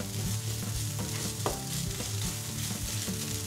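Chopped eggplant and onion fry with ground coriander, giving a dense close sizzle with a few scraping stirs and one sharp utensil knock, no talking.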